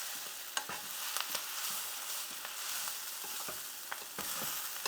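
Drumstick leaves and moong dal curry simmering in a covered pan, giving off a steady dense sizzle with scattered small pops and crackles, close and continuous, with no voices.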